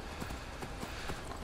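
Horse hooves clip-clop in Skyrim as a steady, evenly paced run of close, soft thuds, a rider trotting over a constant hiss of game ambience, with no talk.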